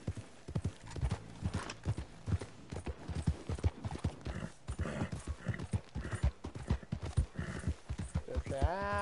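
Horse hooves clip-clopping at a steady trot in the video game Red Dead Redemption 2, a dense rhythmic run of close hoofbeats with a whinny near the end.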